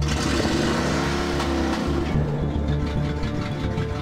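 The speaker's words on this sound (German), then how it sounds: "Mit dem originalgetreuen Nachbau fährt es sich allerdings eher gemütlich." Faithful replica of the Opel RAK 2 rocket car driving at a leisurely pace, a loud, close engine drone with shifting pitch held steady throughout.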